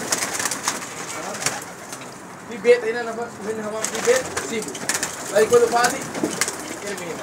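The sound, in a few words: pigeons cooing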